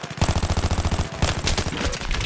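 Rapid automatic gunfire in the military shooter Battlefield 3, a steady burst of closely spaced shots followed by a second, denser volley, loud and close with no talking.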